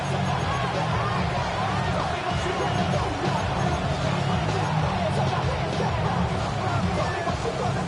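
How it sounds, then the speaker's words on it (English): A packed stadium crowd at an NFL football game with the Chargers roars loudly and constantly, a dense wall of cheering and babble with a voice faintly under it. "The noise very loud from the crowd."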